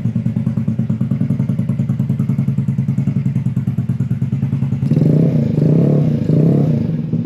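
A GY6 50cc 139QMB scooter engine with a ported head and electroplated valve springs idles in a loud, close, rapid thumping putter, then revs up into a smoother, higher drone near the end.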